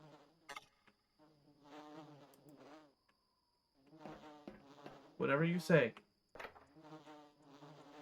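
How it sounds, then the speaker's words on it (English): Bees trapped inside a box in the game Voices of the Void give off a steady, thin buzzing drone that runs beneath someone talking throughout. "I remember there being the box full of bees here, which I can hear."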